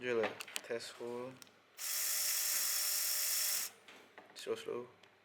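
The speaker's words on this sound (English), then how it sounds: "Drill a test hole." A power drill bores a test hole for a threaded insert in a 3D-printed PLA fixed-wing airframe, a steady high whir lasting about two seconds, with talk just before and after.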